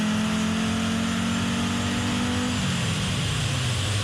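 Engine of a 6,000-horsepower pulling tractor powered by three helicopter turbines, a loud, close, continuous whine and roar whose steady tone drops in pitch partway through as it winds down.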